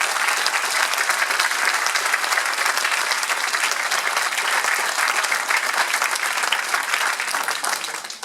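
Sustained applause from a large crowd, a dense steady patter of clapping that fades slightly at the end.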